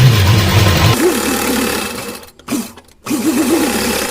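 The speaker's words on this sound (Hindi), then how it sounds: "डबल करने के बाद यहाँ किनारे किनारे लेस टक कर लेंगे, ये पतली वाली। सिलाई लगा लेंगे," A sewing machine runs a steady, close whir as it stitches thin lace along the folded edge of a small cotton dress, pausing briefly twice before resuming. No one speaks.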